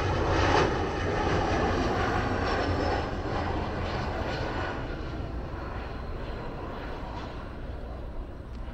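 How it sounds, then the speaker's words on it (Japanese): A low, heavy roar of an airplane just before landing, heard at the runway end of Osaka International Airport by the Senri River, loudest at first and easing slightly as the engine drone continues without talk. "着陸直前の飛行機は 結構響き渡る。"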